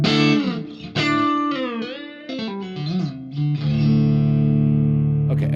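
Guitar run through reverb on a Fractal Axe-FX III, playing loud sustained distorted notes with bends and slides, ending on a long held note that rings out alone.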